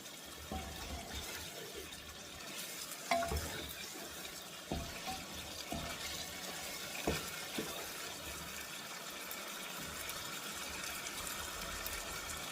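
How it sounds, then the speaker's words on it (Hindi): Korma gravy fries in oil in a pot for Lucknowi dum biryani, giving a continuous soft sizzle scattered with occasional sharper pops and crackles. "अब आप देख सकते हो कि ये हमारा जो सालन है कोरमा वो भुनने लगा है"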